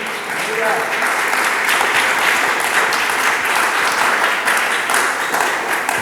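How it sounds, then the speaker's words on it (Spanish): A church congregation claps during a sermon, loud sustained crowd clapping that swells and holds steady, with voices mixed faintly underneath. "Dele palmas al Señor."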